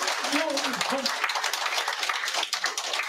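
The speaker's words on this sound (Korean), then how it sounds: "박수 한번 쳐주시기 바랍니다" An audience at the opening of a provincial governor candidate's campaign office claps, with steady applause throughout and a voice speaking over it near the start.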